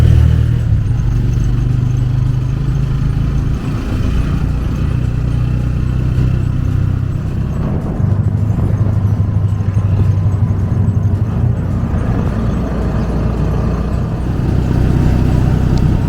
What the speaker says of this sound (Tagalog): Parang mini jeep.